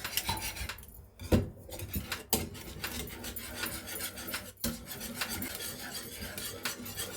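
A spoon scraping and rasping steadily through thick flour paste sauce in a pan for fish pie over medium heat, close and continuous with uneven strokes and occasional clinks.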